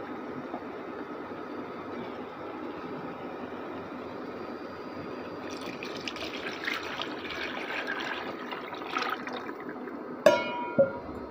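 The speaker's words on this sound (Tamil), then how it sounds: "நம்ம குழம்பு இப்போ கரைச்சி வச்சுக்கிறனால இப்போ அதை ஊற்றிக்கலாம்." Dissolved tamarind gravy for a sankara fish curry is poured into a pot, a soft running liquid trickle that grows and ends with a couple of sharp clinks of metal or glass.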